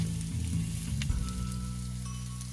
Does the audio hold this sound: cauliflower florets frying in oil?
yes